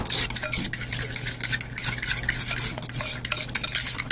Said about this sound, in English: So we'll stir this in real quick.